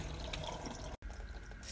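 Tap water running steadily over a batch of shrimp in a sink before cleaning, a constant near splashing wash with a brief dropout midway.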